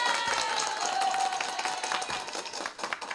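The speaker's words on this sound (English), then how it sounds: "if I got my applause button working" A canned applause sound effect triggered from a button plays: a dense burst of clapping and crowd noise that starts full and gradually thins out, alone without talk.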